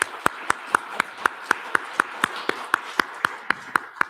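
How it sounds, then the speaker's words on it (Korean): Church congregation claps in a slow, even rhythm, about four crisp claps per second from nearby, with a soft background wash between beats. "박수하겠습니다."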